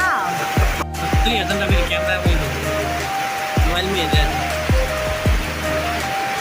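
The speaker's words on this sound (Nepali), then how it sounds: "पानी पर्दैछ है गाइस हाम्रो गाउँतिर हाम्रो ठाउँतिर" Rain falls steadily in a Nepali village as a continuous broad hiss and patter, heard under ongoing talk.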